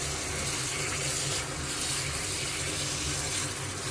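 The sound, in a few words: washing cherries in plenty of water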